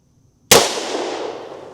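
A single sharp report from a Magnum Research BFR 500 JRH revolver firing a low recoil load, a sudden loud crack after a near-silent moment, followed by a decaying ring-out and reverberation.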